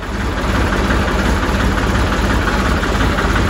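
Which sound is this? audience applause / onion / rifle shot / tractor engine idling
tractor engine idling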